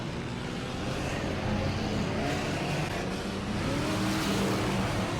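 A race car in an enduro race at Auburndale heads into turn 1, a steady engine roar heard fairly distant and mixed with broad track noise, with no talk over it.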